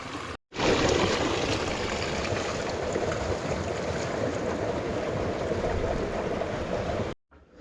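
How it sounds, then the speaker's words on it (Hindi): Water gushes steadily into a bottle from a flowing tap or stream outdoors in the Spiti Valley, a continuous close splashing rush that starts abruptly and cuts off near the end. "पहले पानी भरते हैं बोतल में"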